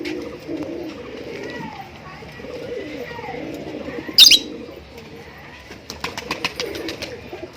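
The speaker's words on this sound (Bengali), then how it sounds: "দেখো পুরো একদম ছাদ ভরা পায়রা আছে।" Pigeons in a fancy rooftop loft coo and chirp steadily at moderate distance, with a short burst of wing flapping partway through and a voice talking over the birds.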